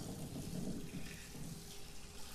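Steady leaking, flowing water inside the underwater game SOMA, a continuous broadband rush like running from a tap, close and even with no talking over it.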